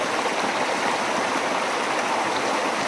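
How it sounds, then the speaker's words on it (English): Creek water at Trout Creek, near a gold mine prospecting site, rushes steadily and loudly close by, a continuous broad wash with no pauses and no voices. "What better place to sign off a video than sitting at the creek? Trout Creek, beautiful spot."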